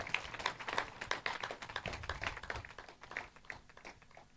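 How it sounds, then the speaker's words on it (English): An audience at a secondary school graduation ceremony applauding, with steady, moderately distant clapping from many hands that slowly thins toward the end. "Give them a round of applause."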